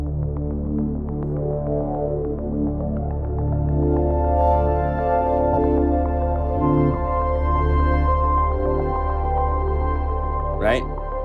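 A synth patch built from the Oddity 3 and Unify plugins plays a sustained, layered pad with throbbing low tones and shimmering upper harmonics, steady and fairly loud, with a brief rising sweep near the end.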